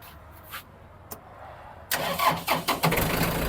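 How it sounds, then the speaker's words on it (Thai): A Yanmar tractor engine starts: a short quiet lead-in with a couple of faint clicks, then the engine catches abruptly and settles into a loud, steady diesel idle with a few revs. "สตาร์ติดง่ายค่ะ"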